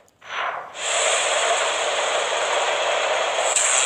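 Moving train giving a loud, steady hissing rumble after a short sharp onset, continuous and close for several seconds.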